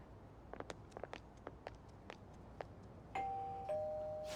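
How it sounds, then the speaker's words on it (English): A doorbell at Madarame's house in Persona 5 Royal rings twice, two sustained chime tones following a patter of short tapping sounds, fairly clear with no talk. "You ring the bell."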